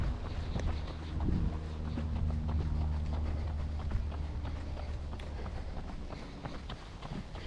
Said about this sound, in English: A bit of wind.